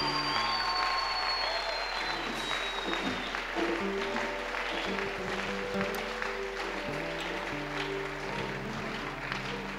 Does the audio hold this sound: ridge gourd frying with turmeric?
no